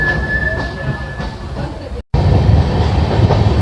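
Taj Express train running on rails, a loud continuous rumble with rhythmic wheel clatter and a brief dropout in the middle, heard from on board or close by.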